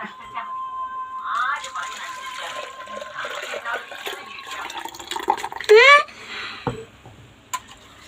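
Green mango juice is poured from a vessel into a glass, with a short filling gurgle whose pitch rises as the glass fills, under intermittent talk.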